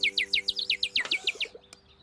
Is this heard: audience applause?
no